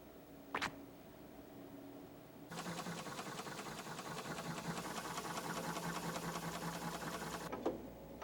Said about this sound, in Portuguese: Esta máquina de soldar utiliza a mais moderna tecnologia.